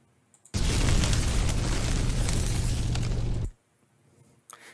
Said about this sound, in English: do we add 3D effects, can add explosions right here, you can time it out